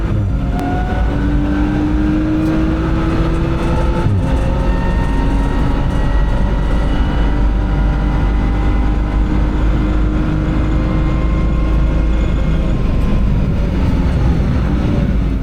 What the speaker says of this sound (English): Listen to the sound of the car and the whine just go.